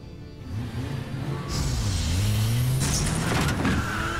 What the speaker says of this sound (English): God, I love that car.